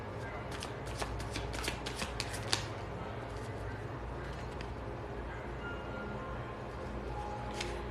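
A deck of tarot cards is shuffled by hand in quick riffling bursts, a cluster of sharp flutters early on and a lone riffle near the end, all close and clear over a quiet steady hum.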